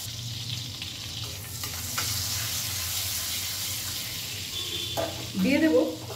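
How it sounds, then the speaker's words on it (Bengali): Butter sizzling as it melts in a hot kadai on a gas stove, a steady close frying hiss with a brief louder stir or scrape near the end. "ভালো করে কড়াই গরম করে কড়াইয়ের মধ্যে দিয়ে দিলাম 1 টুকরো বাটার।"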